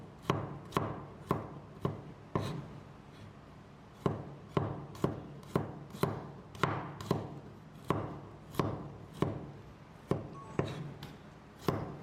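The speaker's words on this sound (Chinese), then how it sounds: "接下来准备一些大蒜，给它切成蒜片。" A kitchen knife slices garlic on a cutting board in crisp, sharp taps, a quick run of evenly spaced chops, a pause, then another steady series, close and clear with no talk.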